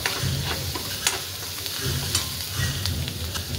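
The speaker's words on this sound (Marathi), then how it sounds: "कांदा आपला लाल भाजतोय छान, बघून घ्या।" Onions and green chilies frying in hot oil, a steady close sizzle with periodic scraping stir strokes across the pan; no voices.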